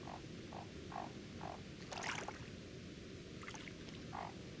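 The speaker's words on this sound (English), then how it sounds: "His voice sounds a little like a snore, but his croaks attract a female to the pond." A male frog at a traditional mating pond gives a series of short, soft, snore-like croaks in a slow regular rhythm, with faint splashing and low background hiss.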